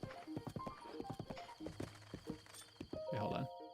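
Horse hooves clip-clop in a steady, quick rhythm in the video game The Legend of Zelda: Breath of the Wild, with a brief snort or whinny toward the end.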